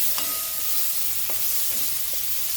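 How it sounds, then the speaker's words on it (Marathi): Onion sizzles steadily in a pan for a liquid soybean bhaji, a close, continuous fry broken by a few sharp clinks or stirring taps. "कांदा चांगल्या प्रकारे लाल लाल होऊ द्यायचा."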